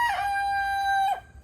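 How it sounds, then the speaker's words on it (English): A rooster crows once outdoors at a farm campground, a loud, close, sustained cock-a-doodle-doo call lasting about a second before fading into quiet. "There's a rooster."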